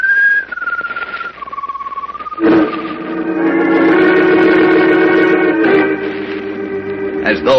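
A strange glowing bird perched atop a ship's mast gives a mournful whistle as a radio drama effect: a sustained, wavering tone that slides slowly downward, then swells over a dense, droning musical bed.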